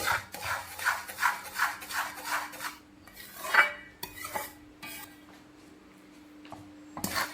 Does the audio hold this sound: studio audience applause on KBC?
no